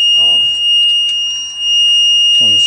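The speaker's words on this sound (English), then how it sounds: "One sec, car alarm's going off." Electronic alarm tone sounding steadily beside a McLaren P1, with short bursts of nearby talk at the start and end of the passage.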